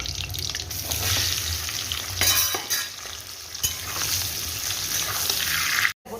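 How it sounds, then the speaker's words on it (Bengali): Thick-cut onion slices frying in oil into crisp birista for a mutton kala bhuna, a dense sizzle with spatula stirring and scraping strokes, close and unvoiced, cutting off briefly near the end. "পেঁয়াজগুলোকে খুব সুন্দর করে আমি বেরেস্তা টাই ভেজে নিই"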